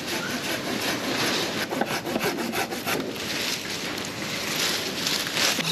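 A pruning saw cuts through a thick branch of a tall tree during a professional thinning prune, a steady rasping back-and-forth stroke that is close and continuous with no talking.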